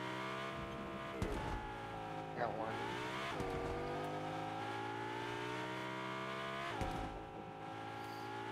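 Car engine in Fortnite, a steady droning motor with pitch rising and falling as it accelerates and shifts, heard continuously at moderate volume.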